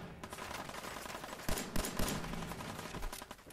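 Enemy gunfire in Fallout 4: a steady crackle of shots with several sharper, louder bursts, fairly close and unbroken, with no talking over it.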